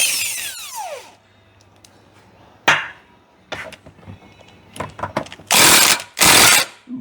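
Power tool bursts working bolts off the gears of a 6-71 supercharged LS engine, a short whir up front, then several spaced rattling impact bursts, the last two long and loud, close by in a garage.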